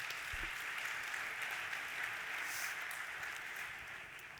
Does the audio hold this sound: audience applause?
yes